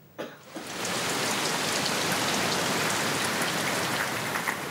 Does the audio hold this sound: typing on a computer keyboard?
no